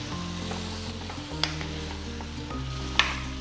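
Carrot, pumpkin, cucumber, drumstick and raw mango pieces being gently stirred in a pot for Kerala-style avial, a soft low rumble with a couple of sharp spoon clinks.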